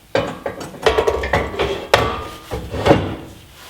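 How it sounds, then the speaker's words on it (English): A steel JcrOffroad rear bumper for a Jeep XJ is slid onto its bumper brackets, giving close metallic scrapes, clunks and knocks over a few seconds, with one sharp bang near the middle. "grab your bumper and slide it on"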